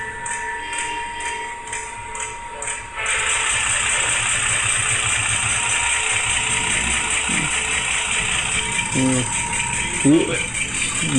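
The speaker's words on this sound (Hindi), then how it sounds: "ये आइडलिंग पे है" Ashok Leyland engine idling during a cam sensor test on its fuel pump: a steady close mechanical rattle and hum that starts with ticking, then grows louder and continuous, with someone talking over it.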